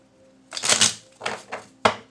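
Tarot cards are shuffled close by in several quick papery riffles and flutters, ending in a sharp snap as the deck comes together.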